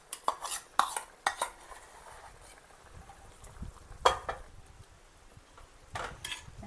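Boiled Mysore dal being mixed into ash gourd kootu in a pan, a series of sharp metal spoon clinks and scrapes against the pan, close by, with a faint simmer underneath and no voices.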